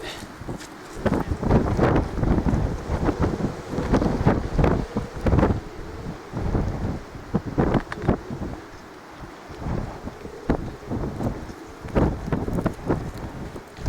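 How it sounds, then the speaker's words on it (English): Strong outdoor wind buffets the microphone on a hillside in the Mendips while a 20-foot pole is being raised, a loud, continuous rumbling roar with gusty surges, and a voice is faintly audible underneath. "that was a struggle in this wind"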